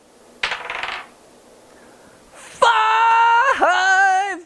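Dice clatter briefly on a tabletop during a solo game of the Firefly board game, followed after a pause by a long, wavering vocal wail or moan.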